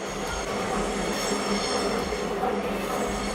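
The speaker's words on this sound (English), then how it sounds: "Sorry, that train is so obnoxiously loud." A loud train passes nearby with a steady rumble, rattling wagons and some wheel squeal, heard on its own throughout.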